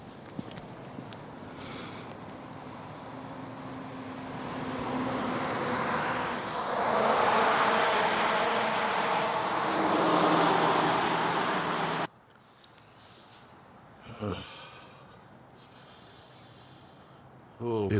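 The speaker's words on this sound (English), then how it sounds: "Ah, fuck, there's a car." A car passes on a rural Texas road, a broad, loud rushing swell that builds and fades over several seconds before cutting off, with breathing and faint movement noise afterward.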